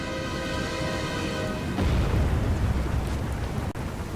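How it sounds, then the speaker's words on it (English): Cannon shots ring out in the Thirty Years' War strategy game 1648, a muffled boom breaking in over battle noise and a fading tonal drone, with a sharp crack near the end. "There are cannon shots."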